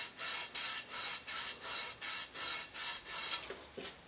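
The end of a copper pipe is rubbed clean of oxidation before soldering, giving about eight even back-and-forth scrubbing strokes in a steady rhythm, close and moderately quiet, with no talk.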